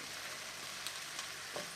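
Shallots from the garden roasting with a spoonful of honey in a pan for a tarte tatin, giving a quiet, steady broadband sizzle with a few faint pops and no talk.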